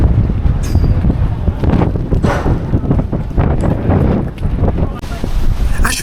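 Strong wind buffets the microphone with loud, continuous low rumbling and gusts on a ferry ramp at Fishbourne, Isle of Wight, a voice talking faintly beneath the roar.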